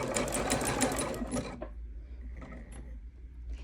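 An older Designer One sewing machine with a walking foot stitching around the edge of a rope bowl: a fast, loud mechanical whir close by that stops after about a second and a half, leaving faint clicks and handling sounds.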